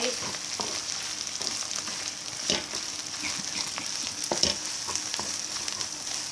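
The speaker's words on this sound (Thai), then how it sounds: "แกงลงผัดไปกับหมูที่เราเคียวนะคะ ผัดไปกับหมูที่เราเคียวไว้" Thai curry paste is stir-fried with sliced pork in a pan, giving a soft continuous sizzle with occasional scrapes and clicks of the spatula, fairly faint and without speech.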